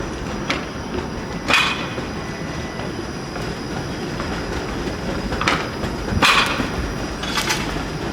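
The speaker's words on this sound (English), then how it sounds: "The streetcar enters." A TTC streetcar rolls through the Spadina and College intersection, a steady rumble of rail wheels with several sharp squeals and clicks from the track, moderately close and without talk.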